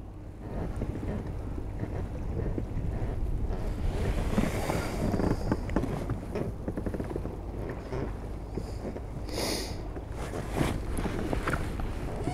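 Steady wind rushing over an exposed stretch of Northumberland coastline at Cambois during a lure fishing session, with surf and water washing beneath it; the roar stays loud and constant throughout with no talking.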